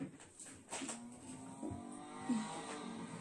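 Game engine of a small Honda car in Need for Speed Payback revving, its pitch climbing and dropping in a few moderate surges, close and steady with no talk.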